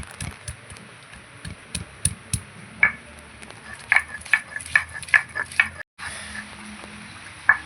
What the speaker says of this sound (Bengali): এর সঙ্গে আদাটাও আমি বেটে নেব